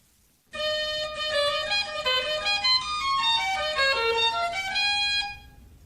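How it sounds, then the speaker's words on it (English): Reedy clarinet-register pipes of an 89-key Gavioli fair organ play a sustained melody of several notes, rich and bright, starting abruptly and fading out at the end with no talk. "The clarinet sound is produced by a number of different types of pipes speaking together"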